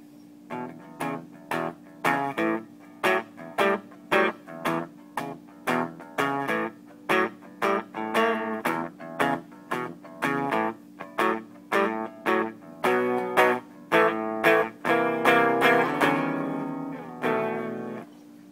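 An electric guitar played clean through a Kustom tube amp with the gain turned all the way down, strummed in a steady rhythm of repeated chords that grow busier and fuller toward the end, loud and alone with no talking.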